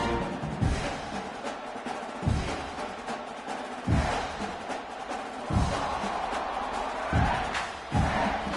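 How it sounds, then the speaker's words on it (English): A large crowd at a college football stadium buzzes and roars after a touchdown, a dense wash of voices with rhythmic louder swells and thumps every second or two. "this crowd is buzzing after that last score"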